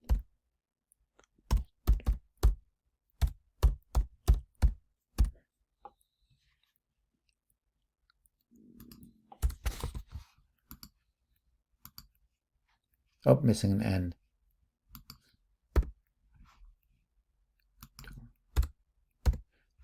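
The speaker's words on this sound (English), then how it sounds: "I hate typing." Bursts of keyboard typing clicks, close by, in quick irregular runs, with a brief spoken remark partway through.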